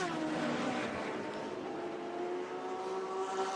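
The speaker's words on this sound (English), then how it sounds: "So there you got the Audi up towards the chicane" An Audi GT3 race car at Circuit Paul Ricard runs toward the chicane, its engine a steady sustained drone heard from a distance, continuous and fairly even throughout without voices.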